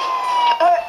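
A wailing ambulance siren in GTA IV rises and shifts pitch over a brief burst, fairly loud and close.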